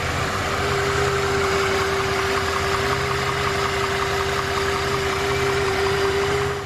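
A Mercedes S600 V12 salvage rebuild idles steadily with a smooth, constant drone and a fixed low hum, loud and close, with no voices over it.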